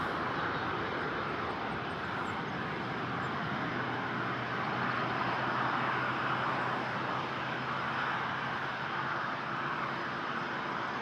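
An Airbus A330-200 airliner bound for Paris roars steadily at Toronto airport, a broad, sustained jet rumble heard from a distance with no voices over it.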